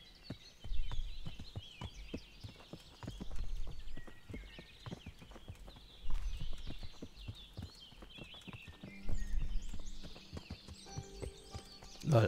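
Horse hooves clip-clop at a walking pace in the video game Kingdom Come: Deliverance, a steady run of close, distinct thuds with brief quieter lulls and no talking.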